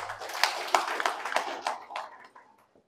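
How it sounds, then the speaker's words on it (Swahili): An audience claps at a youth fundraising gathering for building party offices, a few scattered sharp claps building into a short burst that fades out, with a voice faintly underneath. "Wapigieni makofi vijana"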